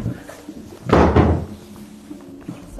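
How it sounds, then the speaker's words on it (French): A chair topples over onto the floor during a live horror escape game; one loud heavy crash with a short rumbling tail, set against a quiet room. "C'est la chaise, elle est tombée."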